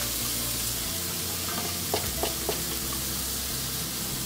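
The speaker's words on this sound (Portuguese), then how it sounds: "Vamos fritar um pouquinho a cebola." Chopped onion frying in a pan, a steady dense sizzle with a few brief stirring scrapes, close and continuous.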